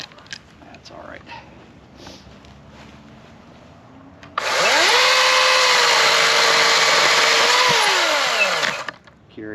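A RIDGID electric chainsaw revs up and bites into wood, a loud steady high-pitched whine with a pitch that holds and then drops near the end, following softer talk and handling noise beforehand.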